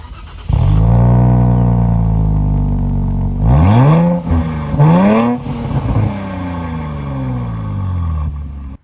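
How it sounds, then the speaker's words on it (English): A Nissan Z Sport engine starts and idles with a deep dual-exhaust rumble, then revs sharply twice before settling back to a loud idle. "you'll get dual exhaust right here. Let's see how that sounds."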